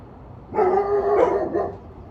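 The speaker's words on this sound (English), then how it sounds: "My neighbor's got new dogs." A neighbor's dogs bark and yip in one short, moderately close burst lasting about a second, heard outdoors in a backyard food forest garden.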